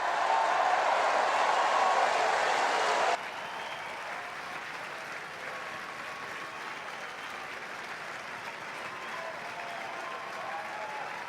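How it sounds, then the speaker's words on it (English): Racecourse crowd at Kempton cheering the King George Chase winner, a loud burst of applause and cheering that drops abruptly to a quieter, distant crowd murmur for the rest. "Go on, one more cheer."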